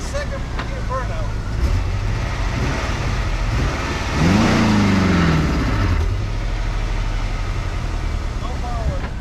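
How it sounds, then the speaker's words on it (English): A C4 Corvette with an LT4 V8 revs hard in second gear for a burnout, a rising engine roar that swells loud around the middle and then fades back toward idle. "What if I can do a second gear burnout?"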